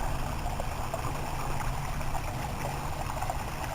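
Constant splashing and rushing of a garden waterfall falling into a wildlife pond, a steady broadband wash with no voices.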